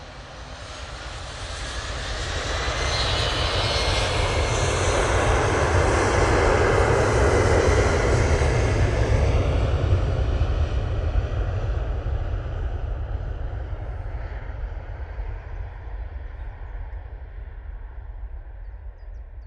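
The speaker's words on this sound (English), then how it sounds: "KLM E190 going off to Amsterdam Schiphol." A KLM Embraer E190 jet departs Manchester Airport for Amsterdam Schiphol, its engine roar rising to a loud peak, then slowly fading as it climbs away, with no talking.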